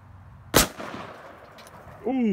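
A single sharp gunshot from a .454 Casull revolver firing Hornady rounds at a steel plate, loud and close, followed by a short fading echo and faint rustling.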